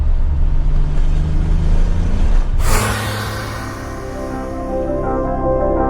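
A V6 car engine runs with a steady loud rumble, then a sharp burst like a door slam or revving punch before it settles back into a lower, even idle hum.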